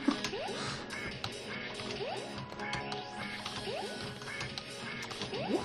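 A duck character in the platformer I Wanna Get Cultured quacks again and again in quick, uneven bursts over busy game sounds, at a moderate level.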